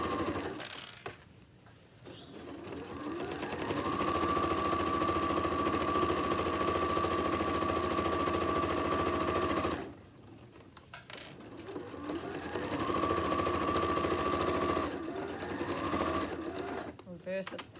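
A sewing machine stitches one side of a tote bag closed in two long steady runs, separated by a short pause; a voice talks over the motor at times.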